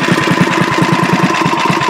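A mini bike engine idles up close with a steady, rapid putter of evenly spaced pulses, alone and without any talking.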